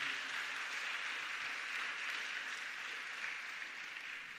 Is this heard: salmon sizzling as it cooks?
no